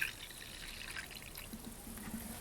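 Neutral 40% spirit trickles quietly as it is poured into the top container of a carbon-cartridge filter setup sitting in a bucket, a faint, steady liquid splash.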